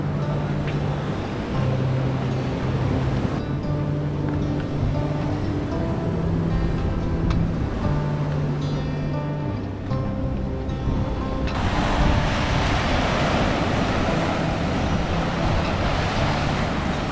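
Sea waves crashing on the coastal rocks at Harihareshwar, a constant loud roar of surf with wind buffeting the microphone and a surge of spray near the end, no talk.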